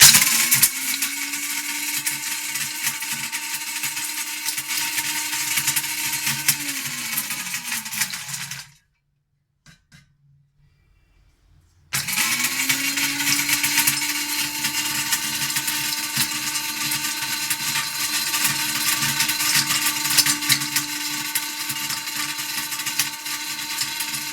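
A heavy electric grinder runs steadily with a loud, high whirring drone, then cuts out for a few seconds of silence before spinning back up and grinding on continuously, close to the listener with no talking.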